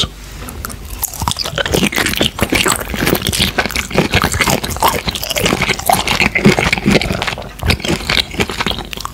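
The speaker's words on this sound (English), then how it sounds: "Today I'm eating shrimps and chips." Close, steady chewing and crunching of shrimps and chips, with wet squishing and biting sounds continuing throughout, no talking.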